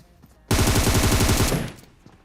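A burst of rapid automatic gunfire in PUBG Mobile on the Erangel map, with about a dozen sharp, evenly spaced shots in roughly one second. The shots are loud and close, then fade into quieter background noise.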